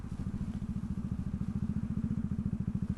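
A big bike motorcycle ridden on a Philippine road, its engine thumping in a fast steady pulse, loud and close throughout with no talking.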